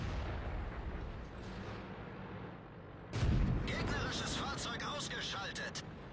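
Artillery fire in the World of Tanks video game, heard as a sudden heavy boom midway with a sharp burst of crackling debris after it, over steady battle noise and talk.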